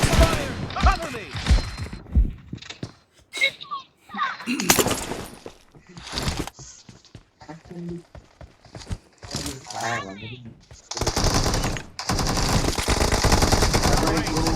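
M762 rifle bursts with a suppressor fire in a PUBG Mobile team deathmatch as rapid automatic volleys and single cracks. Game voice callouts and other in-game sounds are mixed in between the volleys.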